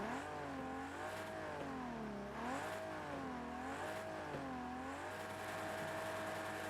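A Ferrari 250 GT Berlinetta engine in Project CARS 2 revs repeatedly, rising and falling in smooth swooping waves of pitch, steady and moderately loud with no talking.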